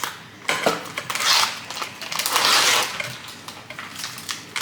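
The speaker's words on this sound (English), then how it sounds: "And then we're gonna add our beef" Beef mince is dropped and broken into a Thermomix bowl in a home kitchen. Wet squishing and clattering bursts repeat for several seconds with soft metallic clinks, close and fairly loud, with no talking.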